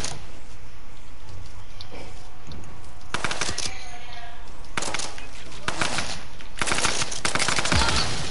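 Gunfire in the video game Fortnite, several loud clusters of rapid shots separated by brief quieter stretches, with faint background game sounds between the bursts.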